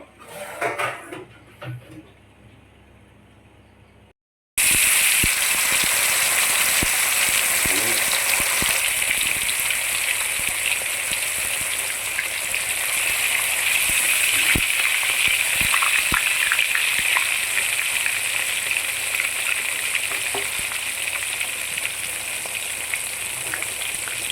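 Karimeen pearl spot fish frying in hot oil on medium flame, a loud continuous sizzle and crackle that starts abruptly after a few seconds of quieter kitchen sounds and voices, with occasional clinks of utensils.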